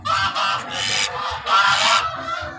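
Ducks at the 2023 Grafton agricultural show give loud, close, honking quacks in repeated harsh bursts with short gaps, with a low murmur of background noise underneath.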